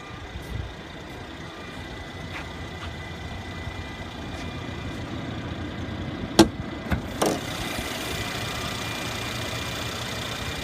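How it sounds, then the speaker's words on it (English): A Mercedes-Benz CLS400 with a 3-liter bi-turbo V6 idles under an open hood, a low steady hum that runs throughout, with a few sharp clicks and clatters around the middle. "Under the hood is a 3-liter bi-turbo V6 engine with 7-speed automatic transmission"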